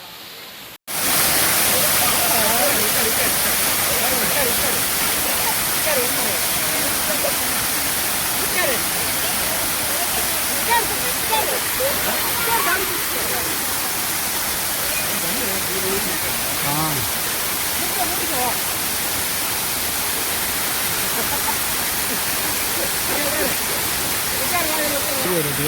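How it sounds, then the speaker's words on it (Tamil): A private waterfall in Thekkady roars in a continuous, even rush of falling water, loud and close, holding steady for the full length without a break. "ஆமா, தேக்கடியில் இருக்க பிரைவேட் ஃபால்ஸ்."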